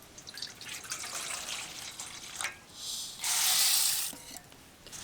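Masoor lentils washed by hand in water, with swishing, dripping and splashing that rises and falls in short bursts, ending in a louder steady rush of pouring water.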